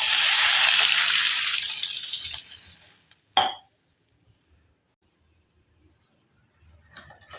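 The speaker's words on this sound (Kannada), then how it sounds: "ಒಂದು ಗ್ಲಾಸ್ ಅಷ್ಟು ನೀರು ಹಾಕ್ಕೊಳ್ಳೋಣ" Water from a glass goes into a hot pan of fried spices and coriander while cooking boiled kodubale, a loud hissing rush that fades over about three seconds, then a sharp clink and faint rattles.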